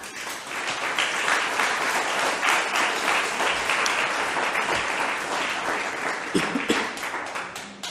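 A church congregation applauding together, a dense, steady wash of clapping that holds for several seconds at moderate loudness, with no speech over it.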